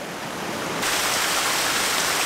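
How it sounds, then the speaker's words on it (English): Rain-swollen creek water rushes steadily after a big rain, a broad hissing flow that swells louder partway through and then holds constant, with no voices. "The water is running everywhere it can today."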